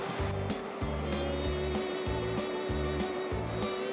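A bicycle rides through water in Georgia: broadband watery rushing with repeated bursts of splashing, steady and close, over a low droning hum with a rhythmic pulsing pattern.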